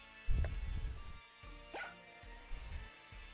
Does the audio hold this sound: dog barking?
yes